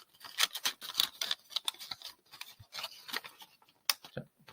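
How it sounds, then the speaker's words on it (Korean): Origami paper being pressed and folded along crease lines into a spider (tick) model, producing close, crisp crackling rustles and short papery snaps in irregular bursts, with no voices. "조금씩 눌러서 접기 선대로 접어요"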